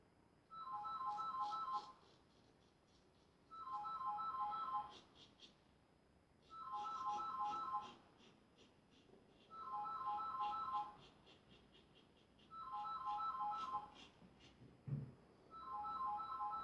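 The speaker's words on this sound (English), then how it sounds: "I'll just let the phone ring." A telephone rings in a regular repeating pattern, six trilling bursts of about a second and a half each separated by short silences, moderately loud and heard alone.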